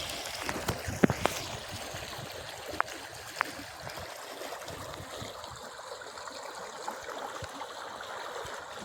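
A fast-flowing river current rushes past nearby, a steady broadband wash of moving water with a few sharp knocks and splashes early on, fairly quiet overall and without speech.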